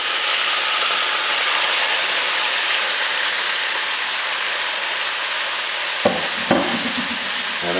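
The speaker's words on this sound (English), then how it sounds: "So we are going to add in our beef roast." A beef roast sears in hot oil in a heavy Dutch oven, giving a steady, loud broadband sizzle that fills the clip, with a couple of soft knocks near the end and no talking.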